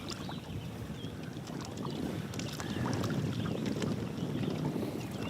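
A fishing tournament boat runs on Weiss Lake, its engine and hull churning steadily under strong wind buffeting the microphone, with no voices.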